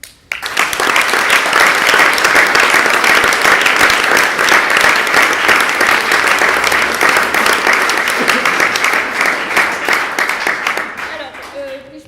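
A theatre audience applauding an amateur theatre group's performance in Salins, with a dense, steady wall of clapping that holds strong for about ten seconds, then tapers off as a voice begins at the end.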